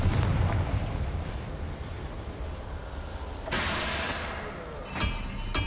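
A Confringo fire spell from the Hogwarts Legacy video game erupts in a loud, rumbling blast partway through, rising over steady game-ambience noise, with a second short burst near the end.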